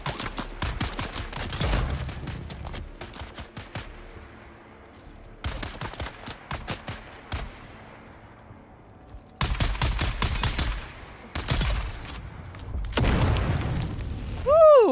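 Repeated bursts of explosive bomb blasts and crackling booms in Dune: Awakening, several clustered volleys separated by short lulls, loud and close with sharp, dense impacts.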